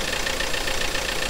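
A van engine idles steadily just after an oil change, a constant low rumble with a broad noisy hiss on top, close by and without talk.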